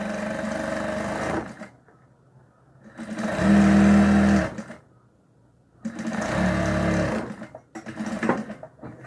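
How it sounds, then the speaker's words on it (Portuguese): A sewing machine stitches fabric and lace binding in three long runs and one short run, each a loud, close, steady whir, separated by pauses of near silence. "Ó, vou repassar minha costura."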